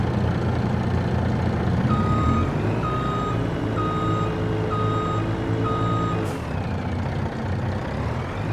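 A truck in Farming Simulator 25 reverses with a regular series of high electronic beeps, about one per second, over a loud, steady diesel engine drone.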